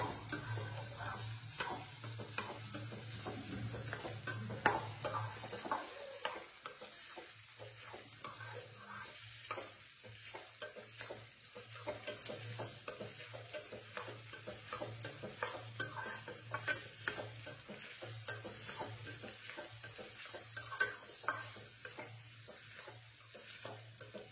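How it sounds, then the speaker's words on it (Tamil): Small onions sizzle and sauté in a pan for a dry fish curry, a quiet continuous frying hiss with frequent stirring scrapes and clinks throughout, no voices present. "வெங்காயம் நல்லா சுருண்டு வர்ற அளவுக்கு நம்ம வதக்கணும்."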